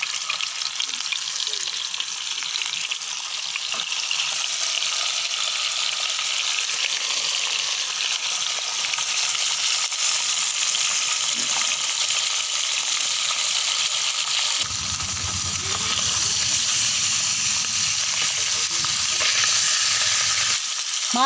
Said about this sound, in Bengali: তেল গরম হয়ে গেছে, এখন মাছ ছেড়ে দিব।